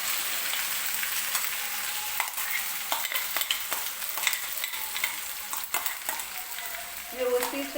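Ground masala gravy for matar paneer hitting hot oil, a loud steady sizzle broken by sharp spitting pops and splatters, with stirring toward the end and no voices.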